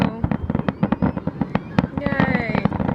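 Independence Day fireworks and firecrackers go off close by, a rapid string of sharp bangs, pops and crackles, with people's voices mixed in among the blasts.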